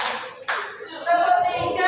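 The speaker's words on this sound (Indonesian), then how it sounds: "Tepuk 1, tepuk 2," Two sharp hand claps ring out about half a second apart, followed by a voice.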